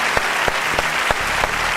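An audience at a televised hypnosis demonstration breaks into loud, close applause, with a few sharp, distinct claps standing out from the steady clatter.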